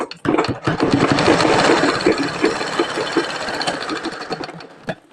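A sewing machine stitches frills onto a lined frock, whirring loud and close in one continuous rapid run that slows and stops near the end.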